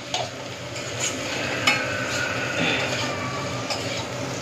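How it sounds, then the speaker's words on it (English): Onions, carrots and beans frying for egg and chicken sausage fried rice, stirred in a hot pan: loud, continuous sizzle with repeated scraping and clinking of the spatula, close up. "so we can add our rest vegetables, the carrots, the beans, whatever vegetables, proper vegetables you have, and give it a stir."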